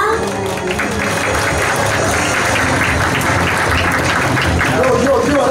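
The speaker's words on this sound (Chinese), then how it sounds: "我们掌声欢迎我们的执行长。" Applause from an audience at a Pentax K-30 camera launch event greets the company's CEO, a dense, steady wash of clapping filling the room with music or voices mixed underneath.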